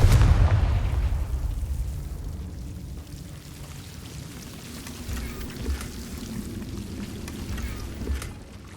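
A fiery Confringo spell explodes in the video game Hogwarts Legacy, opening with a loud low boom that rumbles and decays, followed by softer crackling and a couple of smaller bursts.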